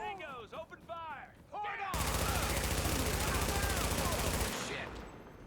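Sustained automatic gunfire in The Division bursts in after a couple of seconds of speech, a dense continuous loud rattle of rapid shots that holds steady for several seconds before cutting off and fading.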